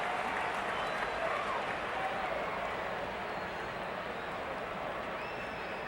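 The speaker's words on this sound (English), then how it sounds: "Fans applauding the good catch made in the stands." Baseball fans applaud a good catch made in the stands at a Cardinals–Cubs game, a steady broadband wash of clapping and crowd noise lasting throughout, moderately loud and distant, with faint voices mixed in.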